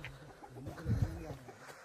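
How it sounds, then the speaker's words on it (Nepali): A red rooster crows once at moderate distance, a short strained call rising and falling over a hushed outdoor mountain background at Ghorepani, Nepal. "रातो भाले कुएँ कुएँ हो क्या"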